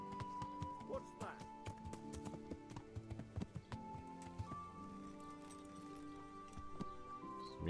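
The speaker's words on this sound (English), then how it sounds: "It's me and my horse, that's what." Steady clip-clop of horse hooves at a trotting rhythm over a busy background of game ambience and music, with a voice speaking briefly, in Kingdom Come: Deliverance.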